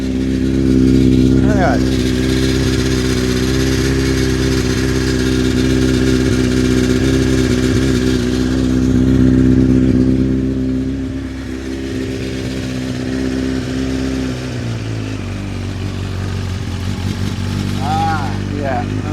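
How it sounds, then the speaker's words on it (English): A Honda CBR 900RR Fireblade motorcycle engine with a rattly cam chain idles steadily and loudly up close throughout, a slight rev swelling the note midway, while a person talks over it. "It's a very rattly cam chain, that is."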